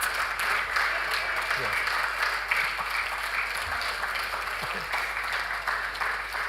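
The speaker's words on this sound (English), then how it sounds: "Please just get up and give yourself a round of applause." A crowd at a polio-free certification celebration applauds in a continuous, even wash of clapping, moderately loud, with voices talking faintly beneath it.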